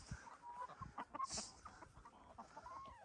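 Chickens cluck and murmur in short bursts nearby, with a brief higher squawk partway through and soft scratching around them.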